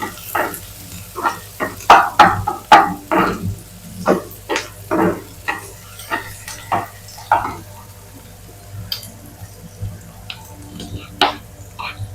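Chopped onion goes into a hot pan for a Marathi banana-flower bhaji, meeting oil and mustard seeds; a sizzle runs throughout, with repeated stirring scrapes and clatters, loudest early on, then settling into steadier frying.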